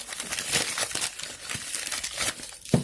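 Plastic packaging crinkles and rustles continuously up close while new phones are unboxed, with dense crackling and a few sharper crunches, no voices.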